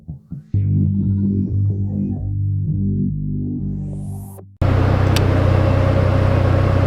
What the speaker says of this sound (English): I just pressed one simple button and it lifted up the bed just like a dump truck